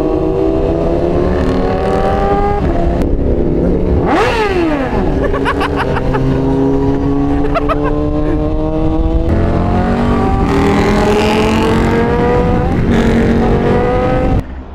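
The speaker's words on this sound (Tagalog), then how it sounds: "Stock exhaust ng Hayabusa kaya tahimik eh." Suzuki Hayabusa motorcycle on its stock exhaust, heard with other engines at a bike meet: steady loud engine drone with rising and falling revs and passing vehicles throughout, no talk.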